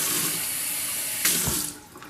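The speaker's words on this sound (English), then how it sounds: "Run your water, fill it up, drain all that garbage out." Tap water runs forcefully into canned food to rinse it out, a loud, close gush that shifts in pitch as the can fills, then cuts off near the end, no voices.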